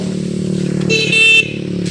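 A motorcycle passes on a road, its engine hum steady throughout, with a short bright horn toot sounding near the middle over the running motor.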